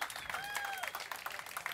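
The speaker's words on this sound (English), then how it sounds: "Bigger round of applause." A live audience applauds at a cooking talk on Indian fire cooking, a brief burst of clapping with a voice talking over it.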